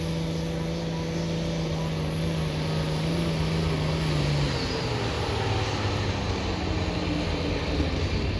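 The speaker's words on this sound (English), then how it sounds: "The Silver Express diesel-powered white tractor. AGCO fans, here he comes again." Diesel-powered white tractor with silver livery making a run at a county fair tractor pull, a loud, steady engine roar that holds throughout with a strong low drone, its pitch dropping slightly partway through.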